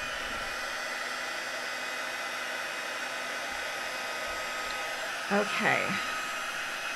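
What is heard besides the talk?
heat tool blowing to melt embossing powder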